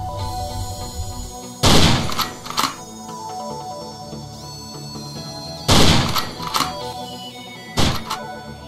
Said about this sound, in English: Practice shooting the moving target and move to the teleporter when you're done practicing.